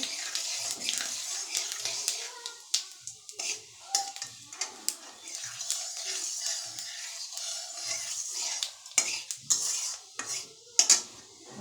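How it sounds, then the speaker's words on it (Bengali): Metal spatula stirring cumin and five-spice seeds in a hot karahi for tamarind pickle, with repeated close clinks and scrapes against the pan in an uneven rhythm, a faint hiss beneath. "নাড়াচাড়া করতেছি"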